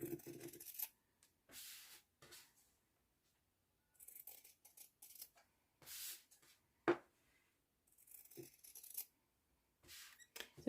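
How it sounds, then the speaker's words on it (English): Scissors snip off loose sewing threads on a handmade wallet, short crisp cuts and light rustling in separate bursts with quiet gaps between, close and fairly soft. "Once you've done that, you can snip them off."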